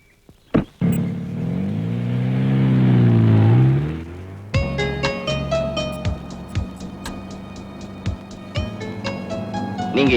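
A car engine drones loudly with a rising, then falling pitch for about four seconds, then cuts to a busier stretch of clattering, tonal noise with sharp hits.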